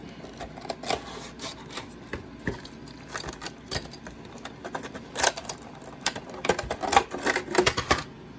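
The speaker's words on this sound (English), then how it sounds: "Peel that tab up. Slide the card out." Cardboard tab peeled up and a card slid out of toy action figure packaging, a busy run of close crinkling, tapping and scraping handling noises that grow louder toward the end.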